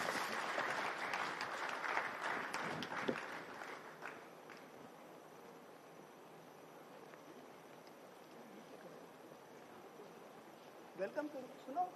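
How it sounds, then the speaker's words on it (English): Applause from an audience at a Constitution Day celebration in Lucknow, loudest at the start and thinning out over several seconds into a quiet hall, with a few scattered claps near the end. "Please join me in giving him a warm round of applause."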